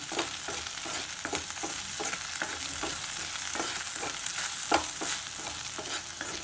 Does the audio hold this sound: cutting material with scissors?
no